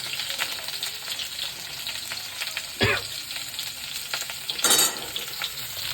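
Oil spattering and sizzling steadily in a hot pan as vegetables, including carrots, fry for khichuri, with two louder crackling bursts near the middle and end; no talking.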